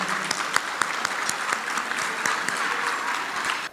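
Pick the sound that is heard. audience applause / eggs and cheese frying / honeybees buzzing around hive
audience applause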